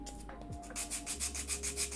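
Sandpaper rubbing along the grain of a small wooden miniature dresser, a soft, steady rhythmic back-and-forth scratching of about seven strokes, close and quiet, with no talking.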